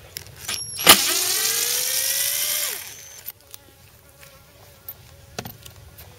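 Bees around an active backyard beehive: one buzzes loudly past close by for about two seconds, its whine sliding down in pitch as it leaves, followed by quieter ambient buzzing and faint ticks.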